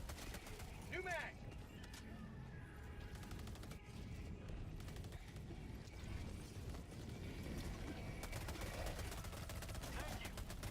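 A rifle magazine swap in the shooter game Helldivers 2 gives quick mechanical clicks and ratcheting clacks amid dense gunfire and battle noise, with voices talking over it.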